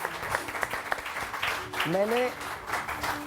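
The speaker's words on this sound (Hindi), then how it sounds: "बहुत सारी तालियां शेख रशीद साहब के लिए" Studio audience applause for Sheikh Rashid on a Pakistani morning talk show, a steady patter of clapping running through with a brief voice rising in the middle.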